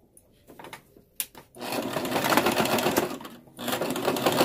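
A sewing machine stitches fabric with a rapid, steady mechanical whir that starts after a few hesitant clicks and brief bursts, runs strongly, pauses briefly, then resumes, close and clear.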